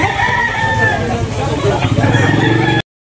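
Roosters crow loudly and continuously at a chicken market in Tabunok, long overlapping calls from several birds over a dense background of clucking and crowd babble, with people talking nearby.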